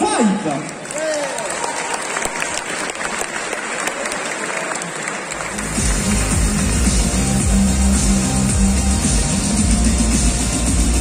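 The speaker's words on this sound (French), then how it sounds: "Et je vous demande d'applaudir bien fort le Kamen Rider 5." Loud, dense applause from an audience at a cosplay contest in Nantes, greeting a Kamen Rider cosplayer; the clapping stays steady for the whole stretch and a heavier low rumble from music or the sound system joins partway through.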